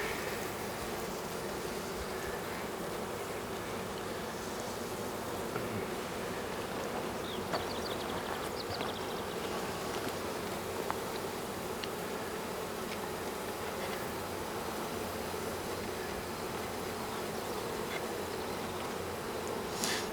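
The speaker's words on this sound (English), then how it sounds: "there's plenty of bees in there" A dense swarm of bees buzzes steadily inside a hive on a farm in summer, a continuous close droning hum with no voices over it.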